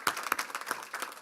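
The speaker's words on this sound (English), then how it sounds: "So give yourselves a round of applause." A short burst of applause from a gathering of public safety staff, a few distinct nearby claps over a thinner background of hands, brief and fairly loud.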